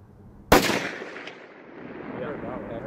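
A single sharp gunshot crack from plinking with new ammunition outdoors, loud and sudden near the start, followed by a fading echo tail and low background noise.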